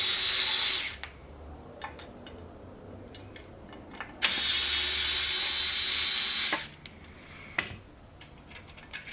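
A powered screwdriver backs out Phillips screws on a projector headlight assembly, whirring in two sustained bursts with a few short clicks and taps between them, close and fairly loud.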